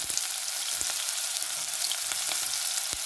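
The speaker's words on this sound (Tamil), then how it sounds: "வெங்காயம் உள்ளி எல்லாத்தையும் சேர்த்து போடுறேன்" Onion and garlic fry in hot oil in a pan with a dense, even crackling sizzle and scattered sharp pops throughout, close and steady with no voices.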